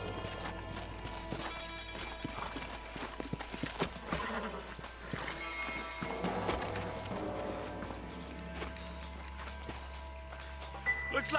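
Horses' hooves clip-clop steadily in the Red Dead Redemption video game, a quiet rhythmic patter of several animals under low ambient background, with brief scattered clatter and no clear talking.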